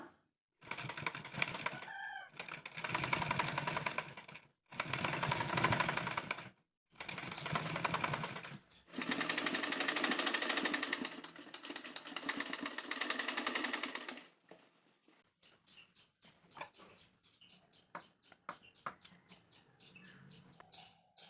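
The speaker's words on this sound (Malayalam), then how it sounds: "അപ്പോൾ ഇനി അടുത്ത് നമുക്ക് ലേസ് സ്റ്റിച്ച് ചെയ്തെടുക്കാം." A sewing machine stitches lace onto the neckline of a frock-style nighty in several bursts of rapid whirring, the last and longest running about five seconds, separated by brief pauses, with faint bird chirps in the quiet afterward.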